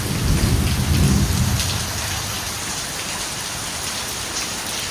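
A thunderstorm breaks overhead in Tuscany, Italy, with a deep rumble of thunder at first, then steady rain falling and pattering on surfaces.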